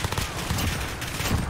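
Rapid gunfire in Modern Warfare 2, a dense, continuous burst of overlapping shots with heavy low thumps, loud and close throughout the moment.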